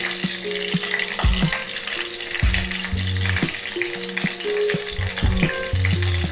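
Green chillies fry in hot oil for Kerala mango pickle, a loud, close, continuous crackling sizzle with stirring clatter and scrapes of a spoon against the pan throughout.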